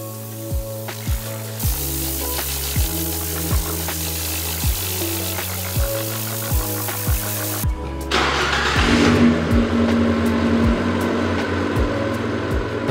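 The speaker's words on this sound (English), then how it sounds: "The final step was turning the engine over and allowing it to run up to normal operating temperature" A Fiat Abarth 500 engine cranks and catches, then settles into a steady running idle with rhythmic pulses, the sound swelling louder partway through.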